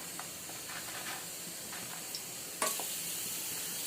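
Whole spices, cinnamon among them, fry in hot oil for dalcha with a steady close sizzle and hiss, and a sharper crackle near the end, with no voices.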